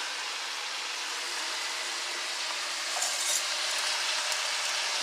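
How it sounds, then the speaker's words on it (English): Chard sautéing in a pan, a steady, even broadband hiss of frying that brightens slightly midway, with no voices. "And then you saute it for a while."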